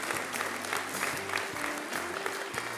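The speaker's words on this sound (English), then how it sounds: "Let's give her a round of applause as well" An awards-ceremony audience claps steadily throughout, a dense patter of many hands in a hall, moderately loud and unbroken.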